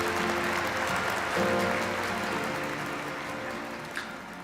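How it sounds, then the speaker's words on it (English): Applause fills a large hall for a family couple being welcomed at a church festival, a steady wash of clapping that carries through with music beneath it. "Let us welcome them with a warm round of applause."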